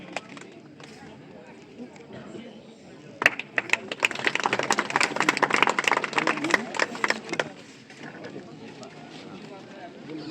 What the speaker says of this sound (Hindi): जोरदार तालियां और हार्दिक स्वागत आपका